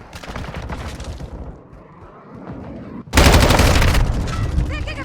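Bursts of automatic gunfire from a Call of Duty: Vanguard match, a quieter stretch giving way to a loud, dense fusillade of rapid shots near the end, with battle noise throughout.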